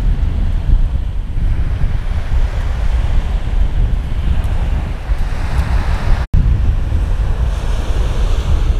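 Sea waves wash onto a beach at Novy Svet in Crimea in a loud, continuous surf roar. Wind rushes across the microphone throughout, with one brief dropout near the end.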